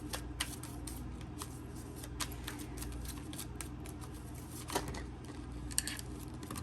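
A tarot deck is shuffled by hand, producing a steady, close riffle of card rustles and sharp flicks for several seconds, with no one speaking.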